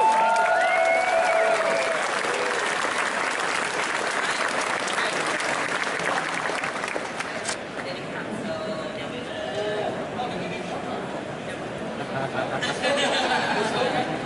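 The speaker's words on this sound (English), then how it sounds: "And a round of applause." A convention opening-ceremony crowd claps loudly and continuously, with cheering and voices chattering under the applause as it gradually thins out.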